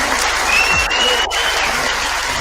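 Audience applause fills the space, a dense, steady wash of many hands clapping at close range, loud and continuous without talk.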